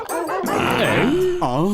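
A cartoon police dog barks and yips in a short loud burst of voiced, wavering calls, close and clear, likely a voice actor imitating the dog.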